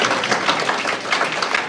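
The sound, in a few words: round of applause at a meeting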